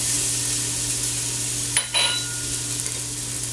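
Diced yellow onion and about six cloves of garlic sizzle steadily in a pot, a constant close frying hiss with a brief scrape of stirring partway through, under a low hum, with no talk.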